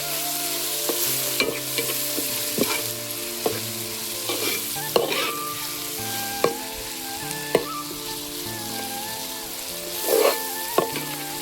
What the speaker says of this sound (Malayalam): പച്ചമുളക്, കറിവേപ്പില ഇട്ടിട്ട് നന്നായിട്ട് വഴറ്റി കൊടുക്കണം